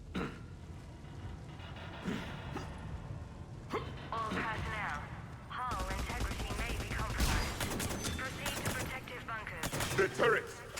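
Rapid turret gunfire in Mass Effect 3 rattles through a damaged facility battle, bursts of shots mixed with combat noise and voices talking over the action.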